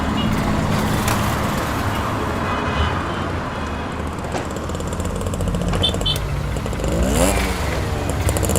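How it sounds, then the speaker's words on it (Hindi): A motorcycle carries two riders in an animated Hindi horror story, its engine droning steadily and fairly loud throughout with rough, rumbling road noise and no voices. "बाइक गिरीश चला रहा है और निकुंज उसके पीछे बैठा हुआ है।"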